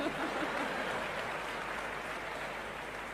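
An audience at an Amway India recognition event claps in dense, steady applause that fills the room, holding at an even level throughout.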